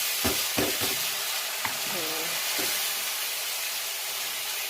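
Vegetarian chow mein noodles fry in a hot pan, giving a loud, continuous hissing sizzle with a few stirring knocks and scrapes near the start.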